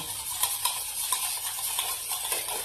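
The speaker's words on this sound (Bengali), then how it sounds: "দিয়ে খুব ভালোভাবে ডিমটাকে এইভাবে ফাটাতে হবে" Eggs being beaten with white oil in a bowl for a cake batter, a quick rhythmic whisking and tapping close up, continuous with small regular clicks and no talk.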